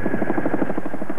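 A giant Chinook helicopter at a military base supporting the British contingent in Beirut in 1983, its rotors giving a steady rapid thudding beat over a continuous engine whine, close and loud with no talk.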